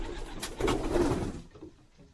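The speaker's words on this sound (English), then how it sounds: "that's all my pigeons that I have" Pigeons cooing in a loft, low soft throaty coos close by over a bed of rustling, fading toward the end.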